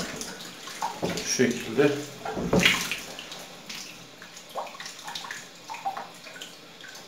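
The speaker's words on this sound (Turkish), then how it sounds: "İçinden berrak su gelene kadar temizliyoruz" Water is flushed through a clogged radiator that fails to heat, rinsed until it runs clear. Splashing, gurgling bursts are loudest in the first few seconds, then come as softer intermittent gushes, with a brief spoken remark.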